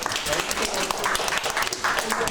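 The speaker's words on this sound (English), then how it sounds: "Well, I can give Michael a big round of applause." Children in a classroom clap for a five-year-old boy, a dense, steady patter of small hands that fills the whole moment, close and fairly loud, with voices mixed in.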